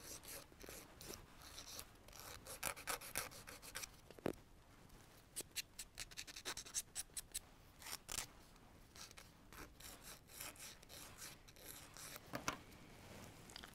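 A nail file rasping back and forth across a fingernail during a fake nail application, quick scratchy strokes in an uneven rhythm, close and fairly quiet, with no talking.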